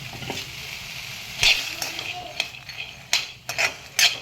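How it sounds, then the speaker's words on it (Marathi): Pigeon pea seeds crackle and rattle as they are stir-roasted in a kadhai, with a steady dry sizzle broken by several louder scraping stirs of a spoon against the metal. "दाणे परतून घे हे दाणे कढईमध्ये परतून घेपर्यंत"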